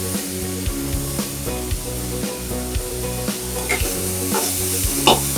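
Carrots sizzle and crackle as they are stirred and sautéed in a pan for rava kichadi, a steady frying hiss broken by scraping of the spoon and soft knocks, close and alone.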